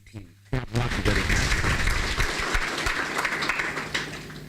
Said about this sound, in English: So let's applaud the graduate school team.